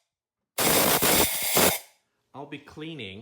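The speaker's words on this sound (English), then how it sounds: "So the first thing I'm going to do is blow out with an air gun." Compressed air gun blasting into the spark plug tubes of a 1994 Mercedes C280 W202 M104 engine, a loud close hissing burst lasting over a second with sputtering breaks, followed by someone speaking.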